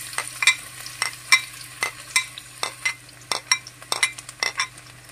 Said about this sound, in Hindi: इसमें मैं सबसे पहले लहसुन डाल दूंगी।